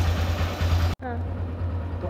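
Close Honda Livo motorcycle engine with stock exhaust idling with a steady low rumble, briefly cut by a sharp dropout before the chugging resumes.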